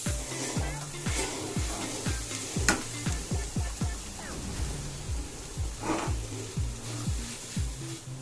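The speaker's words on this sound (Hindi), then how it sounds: "हमने गैस जलाकर कढ़ाई को गर्म कर लिया है और कढ़ाई के अंदर कच्चा आम डालते हैं।" Raw mango pieces sizzle and fry in a hot kadhai while being stirred, with a steady hiss under repeated rhythmic scraping strokes of a spoon against the pan, close and fairly loud throughout.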